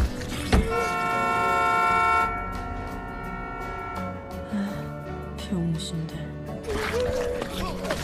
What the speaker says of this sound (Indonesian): tak sengaja klakson mobil tersebut kepencet oleh si Chulmin